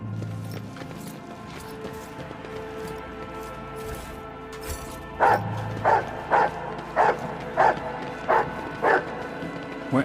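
Dog barking in a Warhammer video game, first a few scattered distant sounds, then a run of eight sharp, evenly spaced barks close by over a low ambient game soundscape.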